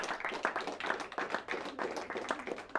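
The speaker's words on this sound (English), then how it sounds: "Give our judges a big round of applause." Audience clapping for judges at a Harlingen versus Hidalgo academic competition, steady rhythmic applause from a modest crowd, fairly faint and continuous for a few seconds with no voices.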